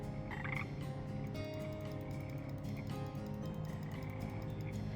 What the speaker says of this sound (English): I'm spending my time trying to catch a frog in a video game.